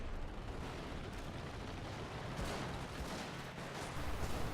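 Artillery shells rain down in a video game battle, a dense continuous roar of blasts and rumbling explosions with several sharper bursts near the end, no talking over it.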